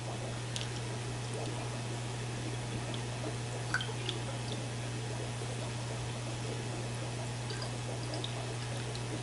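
Soft, continuous trickle and drip of aquarium water poured out as a sample for a copper test kit, faint and close, with a low steady hum beneath and a few small splashes.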